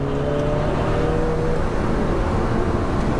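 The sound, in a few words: Alfa Romeo 4C Track Edition engine accelerating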